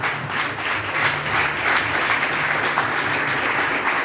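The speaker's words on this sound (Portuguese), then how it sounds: "Dê um aplauso a Jesus, irmãos." A church congregation applauds in a sustained, dense wash of clapping that fills the room steadily for several seconds, loud and continuous with no pauses.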